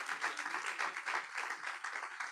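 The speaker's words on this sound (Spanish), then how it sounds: "Dale un aplauso, claro que sí." A church congregation applauds during a Spanish-language sermon, a dense, steady patter of many hands clapping with a light pulsing rhythm, fairly close and without talk over it.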